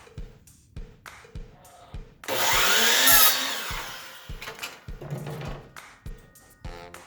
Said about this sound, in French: La master de la scie à onglet à l'œuvre